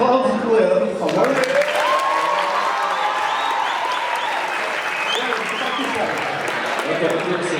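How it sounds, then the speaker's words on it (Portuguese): A church audience applauds, with dense sustained clapping and some cheering that rises sharply after a moment of talk and stays full and loud throughout, with voices mixed in. "Aplausos pro Leandro, por favor."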